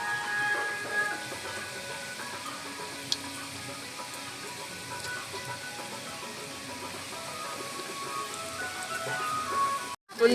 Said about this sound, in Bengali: তো আমি পকোড়াটা একটু অন্যরকম ভাবে ভেজে নিচ্ছি